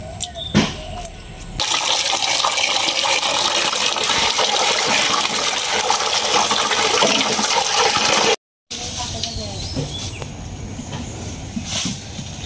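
Water pours and splashes steadily as fish lightly rubbed with salt are rinsed clean, a loud continuous gushing that stops briefly and then resumes more softly.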